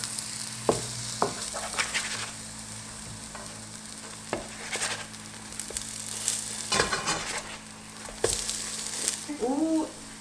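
Food frying and sizzling in a pan, sweetened with sugar and cinnamon, with scraping and clatter as the pieces are stirred and flipped over; steady close sizzle with intermittent utensil knocks.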